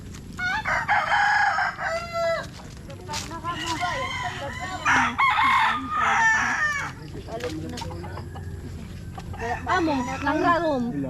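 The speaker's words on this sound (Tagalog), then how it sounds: "Napapalibutan tayo ng manok." A crowd of chickens and roosters crows and clucks all around, repeated overlapping cock-a-doodle-doo calls up close with steady clucking in between and some voices mixed in.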